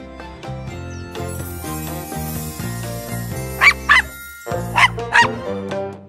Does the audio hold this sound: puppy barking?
yes